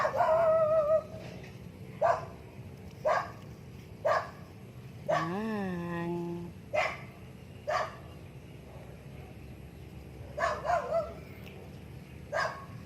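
A dog barks loudly and close by at a rice paddy, giving roughly nine sharp separate barks spaced about a second apart, with a drawn-out whining howl in the middle and a quick double bark near the end.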